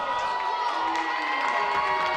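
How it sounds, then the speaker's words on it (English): A crowd at a New Plymouth boys' secondary school basketball playoff voicing disagreement with a referee's call, a dense, sustained mass of shouting and jeering voices that stays loud throughout. "your Plymouth crowd show their disagreement"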